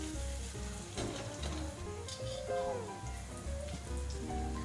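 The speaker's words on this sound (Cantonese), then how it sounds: "將個薑咧煎到金黃色" Ginger slices fry over high heat in a wok until golden, giving a soft continuous sizzle and crackle with some background tones and faint sounds layered over it.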